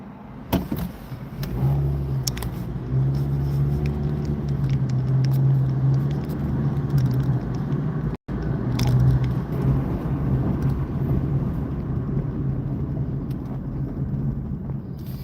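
Constant traffic rumble from passing cars, a droning engine hum rising and fading with a brief cutout midway, with no talking.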